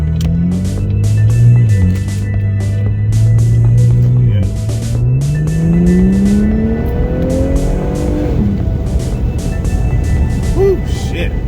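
Tuned car driving gently toward a main road, its engine droning steadily at low revs and rising and falling with shifts, with a voice talking over it partway through.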